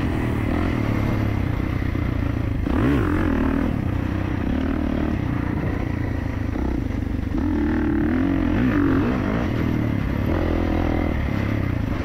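A 2024 Kawasaki KX450 dirt bike being ridden, its engine droning steadily and loud throughout, with revs rising and falling and some clattering and scraping along the way.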